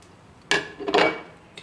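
Fish is stirred into a sweet and sour herb sauce in a small bowl, giving a sharp utensil clink, a brief scraping rattle, then a faint final tap, close and otherwise quiet.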